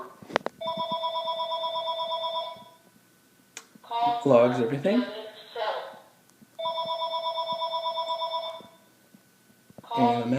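A home automation system's telephone rings for an incoming call, two loud bursts of steady electronic ringing separated by someone talking, with a third ring starting as the segment ends.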